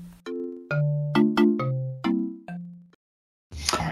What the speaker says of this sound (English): Just then, the phone rings and Alan takes the call.